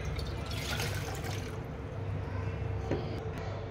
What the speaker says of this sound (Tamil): அதில் நம்ம எடுத்து வச்சுருக்கிற ஒரு கிளாஸ் தண்ணியை சேர்த்துக்கலாம்